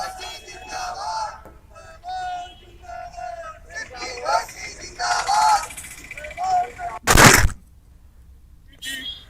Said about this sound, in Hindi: विधायक और विधानसभा अध्यक्ष डॉक्टर सीपी जोशी का आभार व्यक्त करते हुए आतिशबाजी की।